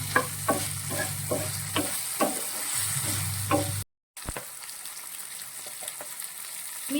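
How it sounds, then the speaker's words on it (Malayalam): Okra and garlic sizzle steadily in a frying pan while a spoon scrapes and stirs in a regular rhythm, close and clear, with a brief silent gap before the frying continues more softly. "വെണ്ടയ്ക്കായും ഇതും കൂടി നന്നായിട്ട് ഇങ്ങനെ ഒന്ന് മിക്സ് ചെയ്ത് വരണം."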